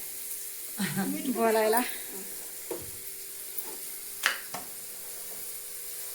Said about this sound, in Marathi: हळद टाकली याच्यात, हे हलवून घ्यायला चाललंय